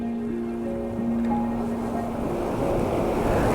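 Ocean waves wash against the rocky Orkney coast in wind, a steady surf roar rising slightly toward the end, with a faint sustained hum running underneath.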